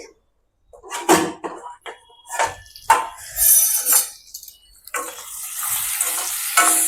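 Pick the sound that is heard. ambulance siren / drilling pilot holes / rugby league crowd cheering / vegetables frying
vegetables frying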